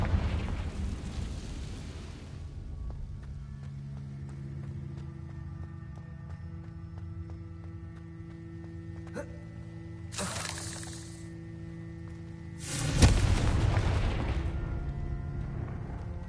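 A Confringo fire spell bursts in Hogwarts Legacy with a loud, sharp explosive crack near the end, after an earlier shorter burst, over a low steady game rumble.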